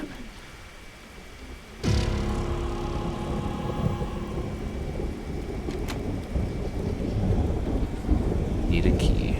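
In the horror video game Bloodmoon Church, a sudden thunderclap breaks over steady rain, then rolls into a long rumble while the downpour hisses on and a faint metallic clink sounds later.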